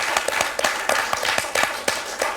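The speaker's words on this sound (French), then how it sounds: "on va l'applaudir encore, Eliane, parce que là, elle m'a bluffé" Studio audience on a French TV quiz show claps for a contestant, a dense burst of close, sharp handclaps with uneven rhythm throughout.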